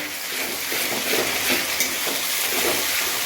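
Crushed garlic with a splash of water sautéing in a pan gives a steady, loud, close hiss and sizzle, with faint stirring scrapes throughout and no voices.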